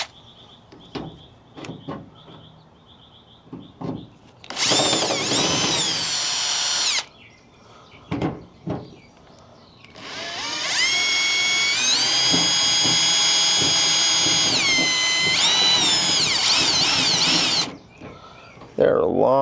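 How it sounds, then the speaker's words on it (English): A power drill drives long screws into a car door panel in two long whirring bursts with a shorter one before them, loud and close, while people talk between the runs. "Best, use power drill."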